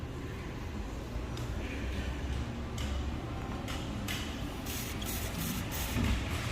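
An aerosol can is sprayed around the rear wheel area and tone ring of a Ford Explorer with a metallic ting pop from the rear, in a series of short, soft hissing bursts over a quiet background.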